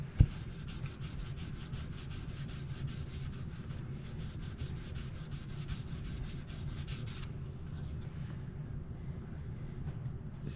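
A guitar neck from a budget kit build is sanded with 600-grit sandpaper: a continuous, close, rhythmic rubbing of fast back-and-forth strokes for about seven seconds that then softens to a duller scrape, with no talk.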